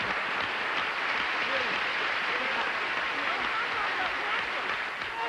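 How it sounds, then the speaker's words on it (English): A studio audience at a TV game show applauds loudly and steadily throughout, a dense wash of clapping with crowd noise and some voices mixed in. "Round of applause for Joe Cuervo of the NBC Makeup Channel."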